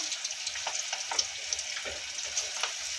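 Lentil dumplings (paruppu urundai) frying in hot oil give a steady, soft sizzle with light crackling pops, close by and fairly quiet, with no voices.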